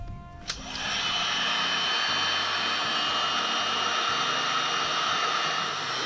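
A heat gun starts with a click and then blows a steady, loud whoosh of hot air, shrinking glue-lined heat-shrink tubing onto 2-gauge wire, with no talking.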